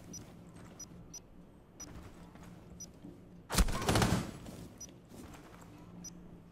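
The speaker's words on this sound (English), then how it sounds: "Love how Buck can shoot you when you only see, like, an elbow." Gunfire in the tactical shooter game Rainbow Six Siege: one short, loud burst of shots stands out over a low, steady game-ambience bed, with a few faint clicks scattered before and after.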